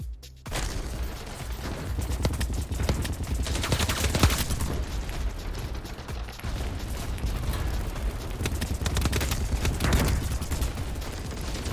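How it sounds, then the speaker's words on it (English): Sniper rifle fire and general gunfire in the online shooter Battlebit: repeated sharp shots and crackling battle noise run loudly and almost without a break through the clip. "that sniper's been shooting at me this whole time, and he cannot hit me"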